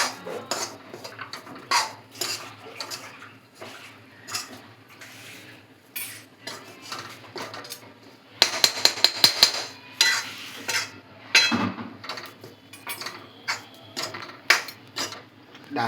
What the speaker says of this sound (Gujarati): જો આ રીતે ટોપરું શેકી દેવાનું.